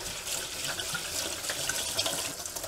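Lentils being rinsed under cold running tap water, heard as a close, steady splash and gurgle from a faucet into a bowl or sink, with no voices.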